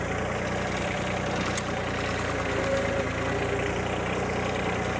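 A machine engine idles at low RPM, around 1200, with a steady mid-low drone and a faint uneven knock running beneath it, moderately loud and close, with no voices.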